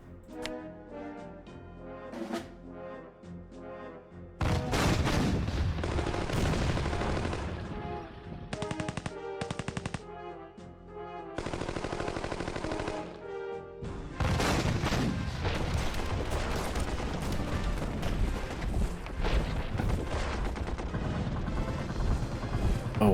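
Artillery fire in OpenGeneral during a Polish-Bolshevik War 1919-20 battle at Daugavpils. A quiet music passage gives way to loud, sustained blasts and rattling gunfire that cut in and out in long bursts.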